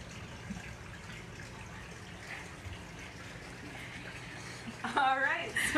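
A small critter from a wade-in animal encounter is put back into the water, making a brief, close splash and gush near the end after several seconds of quiet background murmur.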